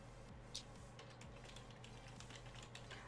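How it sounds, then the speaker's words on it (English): Light keyboard typing: soft, scattered key clicks over a steady low hum, quiet and close, with no one speaking. "I'm just typing."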